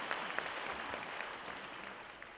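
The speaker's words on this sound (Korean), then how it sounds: "박수 한번 주시기 바랍니다." A faint, steady patter of audience applause at a Gochang County residents' briefing on the culture city project, sounding distant and soft with no talk over it.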